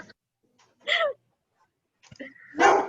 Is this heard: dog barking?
yes